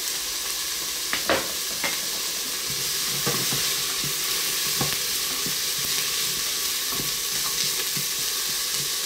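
Extra lean beef mince sizzles steadily as it browns in a pan, with occasional sharp scrapes and clicks of stirring spread through the steady frying hiss.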